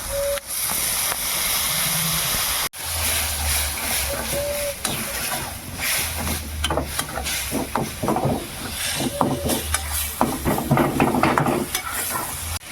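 Hissing sizzle and stirring of a turmeric-coloured chanda fish curry in a pan as water goes in, a steady steamy hiss with scraping strokes and faint clinks throughout.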